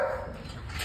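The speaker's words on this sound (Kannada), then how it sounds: "ನಾಯಿ" A dog barks once at the start, a short near yelp over low outdoor background rumble, heard during a street-side Yamaha R15 M motorcycle delivery.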